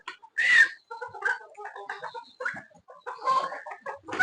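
Several hens, sick from the cold, clucking nearby in short, uneven bursts, with a louder squawk near the start and another toward the end.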